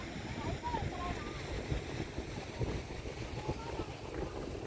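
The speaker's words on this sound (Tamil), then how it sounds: "கடல் பாருங்கள், அலையோடு அப்படி பொங்குதுன்னு" Ocean waves surge and break at Besant Nagar's Elliot's Beach, a steady wash of surf with gusting wind noise buffeting the microphone throughout.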